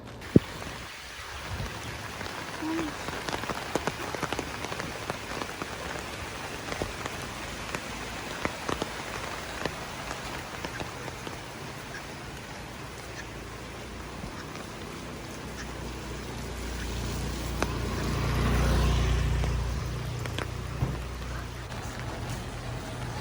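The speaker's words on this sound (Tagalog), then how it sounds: "hindi natin alam yung ulan na walang tigil yung buhos ng ulan dito" Steady heavy rain pours down in a dense, continuous wash in Puerto Princesa, Palawan, during flooding, with a low rumble swelling near the end.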